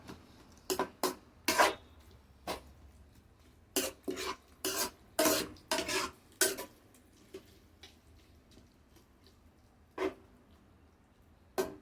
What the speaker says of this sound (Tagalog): Kulo ng konti, parang steam lang to, kunting mantika.